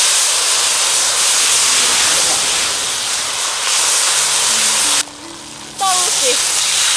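Scallions, ginger, garlic, dried chilies, broad bean paste and hotpot base frying in hot oil for a spicy braised fish, a loud steady sizzling hiss that briefly dips as ingredients are stirred.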